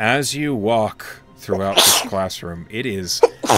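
A single sharp sneeze bursts out in the middle of a man's steady speech during a tabletop role-playing game session, loud and close.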